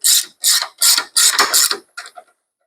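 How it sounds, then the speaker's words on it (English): A ratcheting wrench tightens bolts on a catch can bracket of a Harley touring motorcycle, giving five quick bursts of rapid clicking followed by two shorter, softer bursts, close up and alone. "I'm going to go ahead and just kind of tighten up the bolts"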